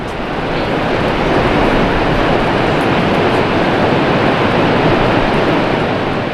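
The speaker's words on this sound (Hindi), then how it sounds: "इनमें से एक है ये 7 सिस्टर्स फॉल। 7 धाराएं मिलकर बनाती हैं इस झरने को।" Seven Sisters Falls in Cherrapunji, Meghalaya, where seven streams join to form one waterfall, roars as a steady, loud, broadband rush of falling water, continuous and unbroken throughout with no voices.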